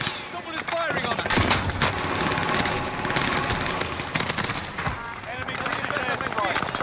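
Dense, continuous gunfire crackles through a video-game battle on the Caldera map, with rapid overlapping bursts and loud clatter filling the whole stretch, mixed under voices.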